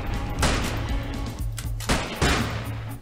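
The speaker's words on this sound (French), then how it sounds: "Oh mais attendez, il y a un canon." In the indie game 12 is Better Than 6, a cannon fires two heavy booming blasts, each a loud broadband burst with a rumbling tail, spaced nearly two seconds apart.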